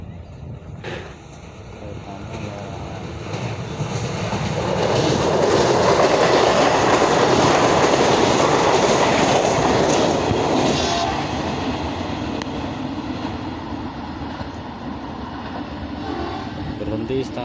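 A Jogja–Solo passenger train passes at high speed, its rushing wheel roar swelling to a loud peak and then fading, with steady track rumble and wind noise.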